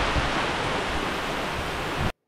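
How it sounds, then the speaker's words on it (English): A whole-house water pump on an off-grid solar homestead, drawing from an outdoor rainwater collection system, runs with a steady, loud broadband rush and hum that holds constant, then cuts off abruptly near the end. "All right, our water pump is on."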